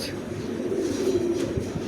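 A pair of pigeons, one of muffled, mooji-coloured birds with feathered feet, coo steadily and close by in a low, throaty rolling murmur that carries through the whole stretch with no talking.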